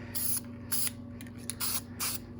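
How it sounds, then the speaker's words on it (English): A spray paint can hisses in five short bursts onto motorcycle brake parts from a 1989 Kawasaki Ninja ZX7, close and sharp over a faint steady hum. "So I'll spray them from this side and then I'll turn the piece of paper around and get them from the other side"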